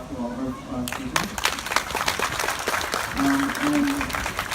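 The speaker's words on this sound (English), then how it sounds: "Can we give a round of applause to all of our speakers?" An audience applauds the speakers at an evening event against hate, with a dense, steady patter of clapping mixed with crowd noise, while a voice speaks over it at the start and again near the end.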